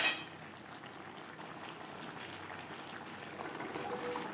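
A mix of vegetables with pointed gourd and jackfruit seeds is stirred in a pan. The cooking bubbles softly, and light clinks of a utensil against the pan come now and then. The sound is quiet and close, with no talking.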